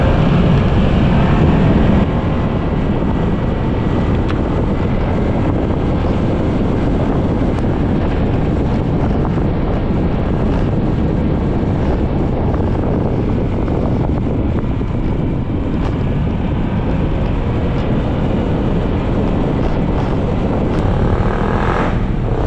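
Steady wind roars and buffets the microphone throughout, a dense continuous rush with no voices.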